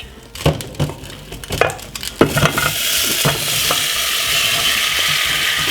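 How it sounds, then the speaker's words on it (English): Marinated vegetables tip into a hot frying pan with a few scraping, clattering stirs, then settle into a steady, loud sizzle that fills the rest of the moment, with no talking. "I got my frying pan right here, empty, nothing inside of it. So what we're going to do is just simple. Pop this lovely veg which we just marinated"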